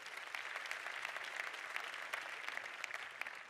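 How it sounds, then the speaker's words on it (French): An audience at a corporate awards event claps continuously, a crisp patter of many hands at moderate, even volume with no voices over it. "On peut l'applaudir."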